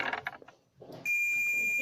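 A multimeter in continuity mode gives a steady, sustained beep while testing a shorted diode removed from a water purifier's filter board, preceded by brief handling noises.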